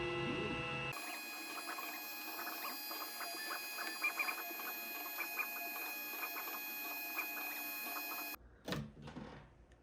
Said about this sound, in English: Now it's going to start with the blade cut.